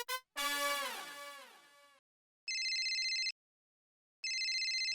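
A descending tonal chime followed by two bursts of a bright electronic telephone ring, separated by silence, clear and close.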